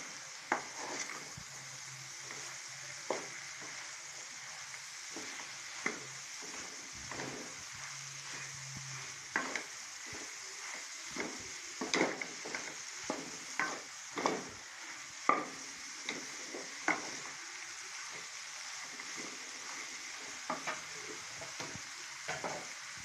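Half a kilo of tinda, round gourds, fries in masala for chicken salan while being stirred, a soft steady sizzle broken by repeated scraping strokes of a spoon against the pot.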